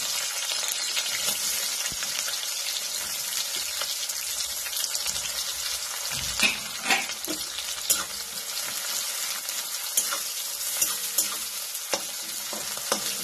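Chopped onion frying in oil for veg Manchurian, a steady close sizzle with repeated stirring scrapes and occasional sharp clinks from the spoon, no voices.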